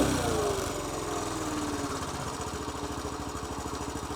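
A Honda CT110 motorcycle engine revs briefly after a carburettor tune, then settles into a steady, slightly high idle with an even, chugging pulse heard up close.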